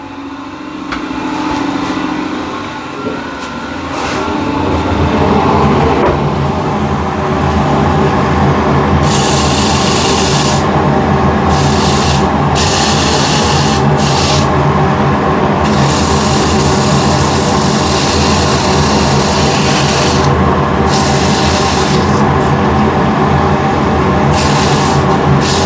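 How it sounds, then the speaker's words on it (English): Continuous abrasive sanding against spinning wood on a lathe, turning an enclosed vessel, over a steady motor hum, loud and close, with bursts of brighter hiss coming and going. "So I'll do sanding on the top portion up to here"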